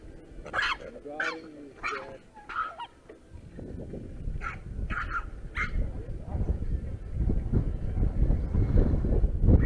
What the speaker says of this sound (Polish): pies się zdenerwował